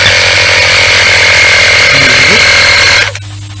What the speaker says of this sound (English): Again, we're using the mobile compressor, but it should be enough.